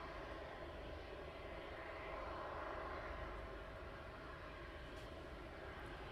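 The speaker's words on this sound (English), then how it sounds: "I know one's got his APU running." An aircraft auxiliary power unit runs on a parked airliner awaiting departure at East Midlands Airport at night, a faint, steady distant whine and hum holding level throughout, with no voices.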